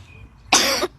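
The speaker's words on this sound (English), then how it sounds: "This cough will hurry me today" A single sharp cough from a man, loud and close, about a third of a second long after a quiet pause.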